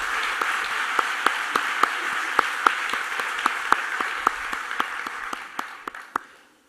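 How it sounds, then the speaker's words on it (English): A conference audience applauds a speaker, a soft hiss of many hands with a few sharp, evenly spaced claps standing out close by, fading away near the end. "Let's give another big round of applause to Mauricio"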